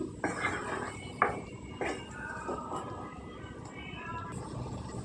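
A lid set on a pot of simmering tomatoes for a raw-banana tamarind stew gives a few close metallic clanks and knocks near the start, followed by a soft steady background hiss.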